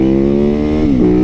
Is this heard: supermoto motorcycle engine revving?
yes